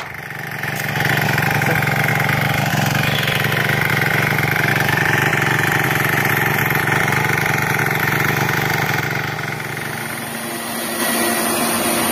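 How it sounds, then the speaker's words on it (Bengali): Small petrol-engine tiller cultivator for farm fields runs steadily at close range, a loud continuous buzzing engine drone with a slight dip near the end and no talking. "কোদাল ছাড়ুন, এই মেশিন দিয়ে বিঘার পর বিঘা জমি চাষ করুন।"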